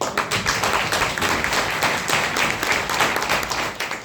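Dense, steady applause from a crowd, many hands clapping together for about four seconds with no voices over it.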